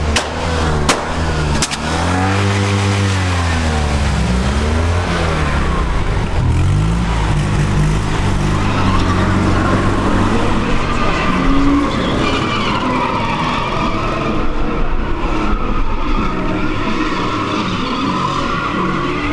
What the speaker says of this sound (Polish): Wybebeszony wydech to sobie troszkę postrzela.